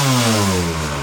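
A Tecate quad ATV engine revs hard and close, its buzzing harmonic tone sliding downward as the revs drop after a quick burst, loud and raspy.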